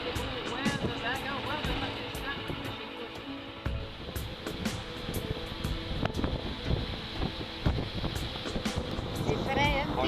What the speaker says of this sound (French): Oui, c'est venteux aujourd'hui